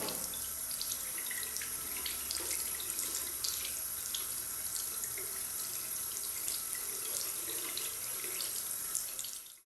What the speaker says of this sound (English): Wash the sponge with water.